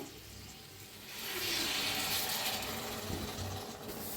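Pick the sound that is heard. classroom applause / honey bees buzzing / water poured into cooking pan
water poured into cooking pan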